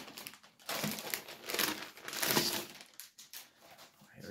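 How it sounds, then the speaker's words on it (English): Crinkly wrapping is pulled and crumpled away from a Lenovo T14s laptop being unboxed, close and fairly quiet, in several bursts of rustling and crackling with short pauses between them. "I'll unwrap the laptop"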